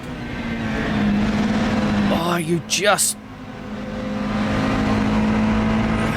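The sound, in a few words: super touring race car engine in video game Assetto Corsa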